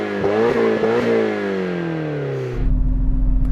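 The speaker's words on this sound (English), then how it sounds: "Okay, now let's have a listen to the Nissan." A Nissan car engine revs up in a few sharp blips, then holds a high whine that slowly drops in pitch before settling into a rough, loud idle close by.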